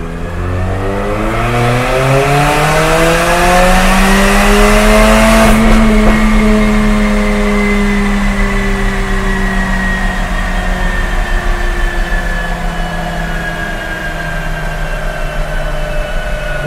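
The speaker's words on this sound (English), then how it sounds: "doing a third gear pull with it open" A Mercedes-Benz CLA45 AMG fitted with an Armytrix valvetronic exhaust, valves open, pulls hard through third gear from about 2500 to 6500 rpm. The engine note climbs steadily and loudly throughout, ending with a brief shift and crackle.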